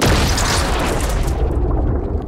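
A missile exploding in Fortnite Battle Royale during a live missile launch event, a heavy booming blast that rumbles loudly and slowly fades, with no one speaking.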